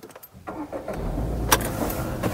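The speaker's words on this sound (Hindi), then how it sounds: "तो चलो भाई अब गाड़ी को स्टार्ट करते हैं।" Tata Tiago hatchback engine starting from inside the car, a short crank followed by the motor catching and settling into a steady idle, close and clear with no talking.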